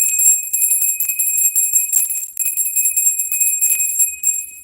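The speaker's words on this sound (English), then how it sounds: "I gotta ring that bell." A bright, high-pitched bell rings repeatedly in quick succession, loud and close, with a shimmering ring that carries through the whole stretch, with no voices.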